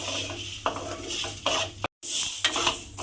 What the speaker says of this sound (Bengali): চালটাকে শুকনো খোলায় আমি একটু ভেজে নেব